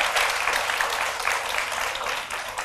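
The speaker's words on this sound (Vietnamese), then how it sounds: "cho một tràng pháo tay nữa để cho cô dâu bớt run rồi" A round of audience applause at a matchmaking show to calm a nervous bride, steady dense clapping throughout the short stretch.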